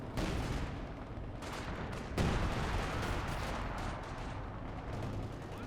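Machine gun fire in Company of Heroes 2 crackles amid a dense battle din, with bursts and a sharp impact mixed into continuous rumbling gunfire and explosions at moderate loudness.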